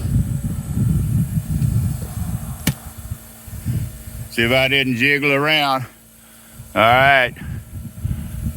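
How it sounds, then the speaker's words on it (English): A low mechanical hum from an air compressor runs steadily in the background while someone talks during head gasket work on a Mercedes 300SD, with a brief sharp click partway through. "You can hear the compressor running in the background"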